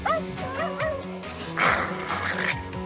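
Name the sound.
dog barking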